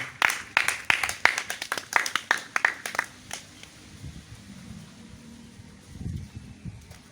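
Church congregation applauding in praise of the Lord: a few seconds of fairly close, brisk clapping that thins out and stops, leaving a quiet room with faint low rumbles.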